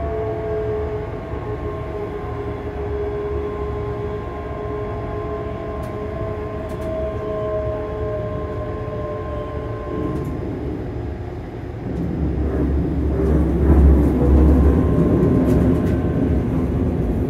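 Interior of a train on the approach to Edinburgh Waverley station, steady rumble and whining tones, then a heavier rolling roar and rattling as it slows; no talking.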